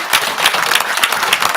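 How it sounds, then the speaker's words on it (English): A university board of supervisors meeting audience gives dense, sustained applause as Governor John Bel Edwards is welcomed to the podium, a brief burst of many hands clapping at once. "I hope you join me in giving our governor, John Bell Edwards, a Southern University healthy round of applause"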